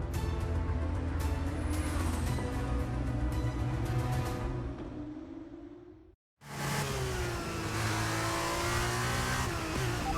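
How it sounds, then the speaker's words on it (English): An F2 race car engine in the F1 23 video game roars steadily at high revs, its pitch climbing through the gears, then cuts out briefly before returning loud and close, with no talking. "it's the first time I've actually driven an F2 car in this game"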